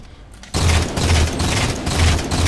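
Rapid gunfire from the Halo 4 video game erupts after a brief quiet moment, a dense, loud burst of shots that continues steadily to the end with no voices.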